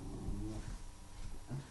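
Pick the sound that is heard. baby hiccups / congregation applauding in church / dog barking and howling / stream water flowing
dog barking and howling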